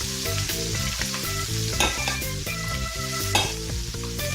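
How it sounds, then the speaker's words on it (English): Shrimp sauté in a hot pan with garlic, giving a loud, steady sizzle and frying crackle with a few sharper pops. There is no talking. "I'm going to add my shrimp to the pan. And we'll let that saute up a second"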